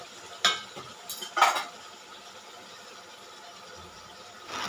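A metal spatula scrapes and clinks a few times against a pan of egg curry masala, quick close clatters over a faint sizzle in a quiet kitchen.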